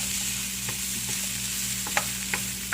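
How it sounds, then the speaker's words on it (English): A spatula stirs a leftover salmon, kidney bean and mushroom stir fry in a hot pan, the steady sizzle of frying running throughout with a few sharp scrapes and clinks near the end. "Just stir it up here."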